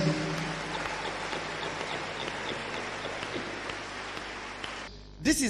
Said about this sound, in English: Can we clap for Master Jesus?